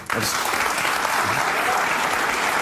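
Studio audience on a talk show breaks into loud applause for Byron Donalds, a sudden onset of many hands clapping that holds as a dense, even wash, with some voices faintly underneath.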